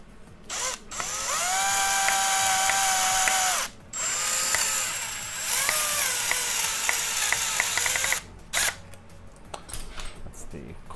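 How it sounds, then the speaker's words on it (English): Power drill in a workshop whose clutch slips and ratchets as the bit meets stiff resistance, a rapid clicking chatter in several bursts with short pauses between, close and fairly loud, with a voice talking now and then. "That's the clutch on my drill because of how tough it's being on the other side."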